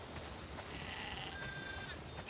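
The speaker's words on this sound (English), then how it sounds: "We definitely have way too many sheep." Faint sheep bleats from The Last of Us Part II sound over a soft, steady background hum, quiet and somewhat distant.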